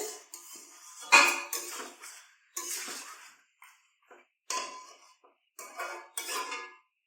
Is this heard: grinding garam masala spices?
yes